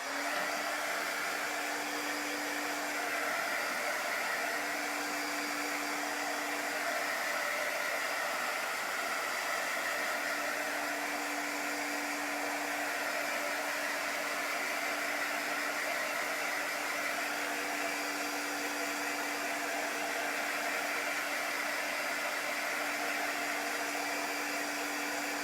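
Hair dryer blowing steadily on chalk paste over a craft piece, a constant close whooshing hum with a faint tonal whine, running alone and unbroken.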